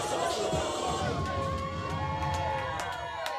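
A crowd of about 200 people on a dance floor at a rap party, loud cheering and shouting over music, with voices blending into a dense roar.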